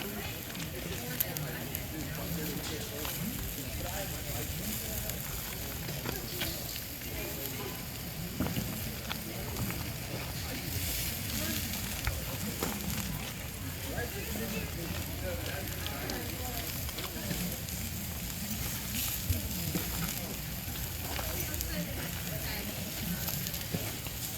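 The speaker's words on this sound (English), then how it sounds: "Fire's burning pretty good. We got a variety of oak and black walnut under there." A campfire of oak and black walnut burns under smoked sausages on a grill, giving a steady, dense crackle and sizzle with faint voices underneath.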